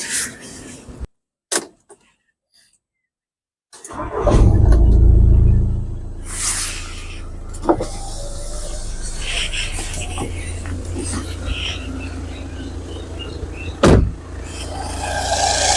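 An Audi Q3 engine turns over after a door thump, catches with a loud rumble, then settles into a quiet, steady idle, with a few clicks and knocks over it.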